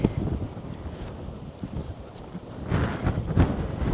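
Ocean waves crash on the shore at La Coruña, Spain, a rough, rumbling wash mixed with heavy wind buffeting, rising to a louder surge toward the end.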